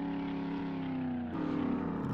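A helicopter flies in the video game 7 Days to Die, a steady loud engine and rotor drone with a slight pitch shift partway through, continuous and close.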